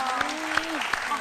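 Applause from an audience, steady and moderately loud, with a few sharper bursts standing out over the clapping.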